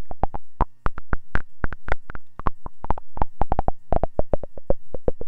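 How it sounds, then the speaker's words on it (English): Resonant synthesizer filter pinging out short, chirpy woodblock-like tones in a quick, uneven rhythm of bright clicks, loud and close with no voice over them. "chirpy, almost woodblock tones"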